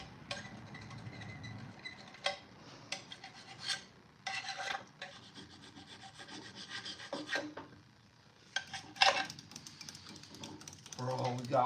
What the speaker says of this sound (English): 45 minutes of gasket scraping was probably enough.